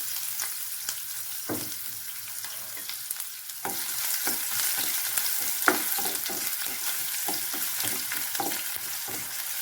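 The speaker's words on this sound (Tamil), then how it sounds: "நல்லா இந்த எண்ணெயில் வணக்கிடலாம்" Green chili and crushed garlic frying in oil for poricha rasam, a continuous close sizzle broken by repeated scraping taps as the pan is stirred.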